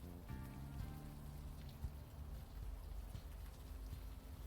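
Soft, steady rain patters in the video game The Unavowed, set in Brooklyn, a faint continuous hiss with low sustained musical tones underneath.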